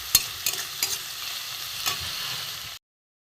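Ash gourd and hilsa fish head being stir-fried in a pan, a steady close sizzle broken by a few sharp scraping stirs of the spatula, with no talking, ending abruptly in silence.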